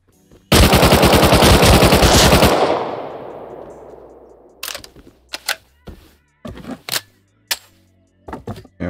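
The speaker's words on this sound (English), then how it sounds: "I hear an AK and spazzes, so." AK rifle fired in Rust Console: a loud, rapid automatic burst lasting about two seconds, followed by a long echoing decay and then several scattered, sharper single shots and short bursts at varying distances.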